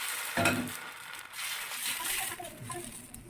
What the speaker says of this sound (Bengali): একটু তেল নিয়ে আমি একটু লাগিয়ে দিচ্ছি, কারণ এটা প্রথমবার হবে। প্রথমে একটু তেল দিতে হয়, পরের বারে না দিলেও খুব সুন্দরভাবে উঠে যায়। ব্যাটারটা এর মধ্যে দিয়ে দেবো।